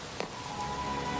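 Rain falls steadily on a surface at a bus stop, a soft continuous hiss with a faint tonal hum and a couple of small drop taps.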